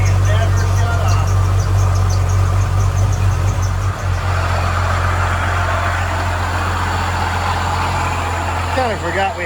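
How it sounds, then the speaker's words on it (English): An old Jeep Cherokee, revived after years of sitting, idles loudly with a small exhaust leak, a steady deep rumbling drone close by that runs unbroken throughout. "Kind of forgot we had a really loud idler in here"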